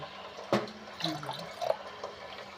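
Water poured into a pan while cooking rava upma, a soft irregular splashing and trickling that comes in a few uneven bursts, faint and close, with no voices over it.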